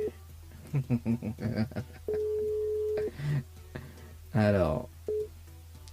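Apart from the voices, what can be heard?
telephone dialing and busy signal when calling a radio listener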